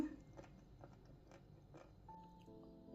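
Crunchy marinated cabbage is chewed close up in a quiet room, giving a run of soft, wet crunching bites at an even pace, followed by a faint tonal hum near the end.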